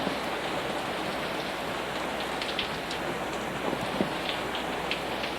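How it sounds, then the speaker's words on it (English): Heavy rain pours steadily during Hurricane Bertha squalls at Nags Head in 1996, a dense continuous hiss with scattered drip and splash accents and no voices. "You can hear the rain."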